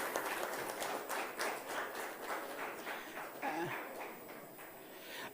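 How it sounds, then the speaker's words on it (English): An audience at a chemicals industry event gives a round of applause, heard as steady, moderately faint clapping from a crowd in a hall. "give the round of applause to the Honorable Minister"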